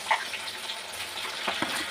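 Soya chunks fry in hot oil like chicken, giving a steady, close sizzling hiss over two seconds with a couple of faint pops and no voices.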